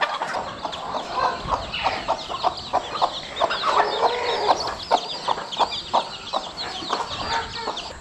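A broody village hen on a Konkan poultry farm clucks close by in a steady run of short, repeated low clucks, with other fowl faintly audible around her.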